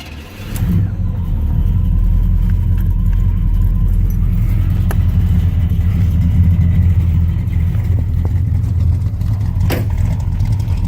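A 1978 Pontiac Trans Am WS6 fitted with Dynomax Super Turbo mufflers rumbles loudly at close range, its deep exhaust holding a steady, heavy drone with brief throttle blips rising through it.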